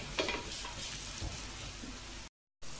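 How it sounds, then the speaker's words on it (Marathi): Coriander thalipeeth, a flatbread, frying in oil in a pan; a steady, soft crackling sizzle that continues without a break, then cuts out briefly near the end. "तेल टाकून असं छान खरपूस भाजून घ्यायचं आहे"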